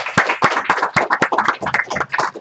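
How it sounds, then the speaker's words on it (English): A small audience at a DigitalOcean tech meetup in Amsterdam claps together, giving a lively, close round of hand claps with irregular, overlapping beats for about two and a half seconds. "can we give them a warm round of applause?"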